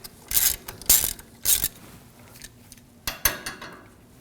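Socket wrench working an 11mm banjo bolt free from a brake hose on the front caliper of a 2015-2022 Chevrolet Colorado: several short metallic ratcheting bursts, close and fairly loud, separated by quiet pauses.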